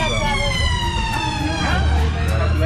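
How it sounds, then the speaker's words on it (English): A loud ambulance siren wails continuously nearby in London, its rising and falling tone filling the whole stretch over low traffic rumble. "The emergency people here don't have any decibel limits with the freaking sirens."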